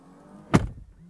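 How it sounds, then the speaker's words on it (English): A door on a BMW 7 Series G70 M Sport closes under power, giving a single soft thud midway through a short, quiet stretch with a faint motor hum around it. "Closing the doors also works automatically."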